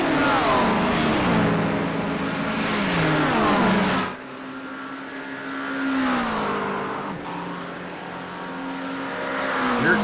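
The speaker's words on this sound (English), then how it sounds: "Here comes an LMP coming by in the mix." LMP prototype race car engine roaring loudly in a Daytona endurance racing video game, revving up and down through gear shifts, cutting off sharply, then a second car swelling past and another climbing in at the end.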